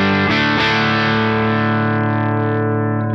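Electric guitar played through a Synergy amp fitted with the IICP preamp module, treble boosted, with effects on the tone: a struck chord plus a second strum, ringing out and sustaining loudly for about three seconds with no talking.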